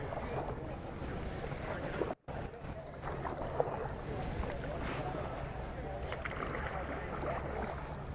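Out on open water in a Bonafide RS117 fishing kayak, soft water movement blends with steady wind buffeting the microphone while someone talks over it.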